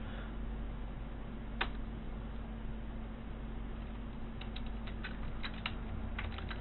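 Scattered keystrokes on a computer keyboard while entering commands during a Vyatta router install, faint clicks in short clusters over a steady electrical hum and fan noise.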